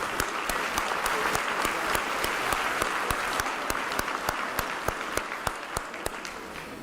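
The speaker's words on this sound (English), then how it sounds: "Let's give everyone a round of applause." An audience at a school district's annual address applauds, a full continuous roar of clapping with sharp, regularly spaced claps standing out on top, gradually easing toward the end.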